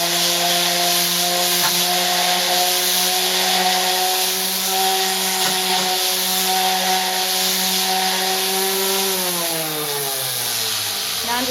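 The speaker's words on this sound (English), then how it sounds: "I'm just going to run over it with my orbital sander and smooth down those areas." An orbital sander smooths patched spots on an indoor concrete slab, a loud, steady electric motor whine with a constant droning tone that slides lower near the end as the tool winds down.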